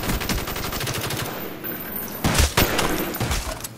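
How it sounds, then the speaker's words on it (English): Rapid automatic gunfire from a Call of Duty Black Ops multiplayer match against bots, a dense rattling burst of shots running throughout with a couple of louder, closer blasts near the end. "Someone's shooting."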